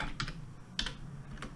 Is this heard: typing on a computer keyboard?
yes